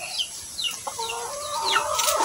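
Backyard chickens cluck in a steady, busy stream at feeding time, with short squawks rising over a low hum of farmyard background noise.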